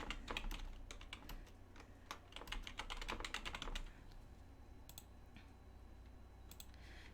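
Tarot cards being shuffled, handled and drawn, heard as a dense burst of crisp papery clicks and snaps close by for about four seconds, then a few scattered light taps over quiet room noise.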